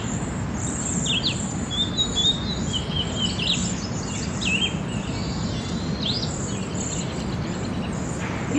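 A pair of cedar waxwings gives thin, high, buzzy calls, repeated in short bursts over a steady low rumble of background noise.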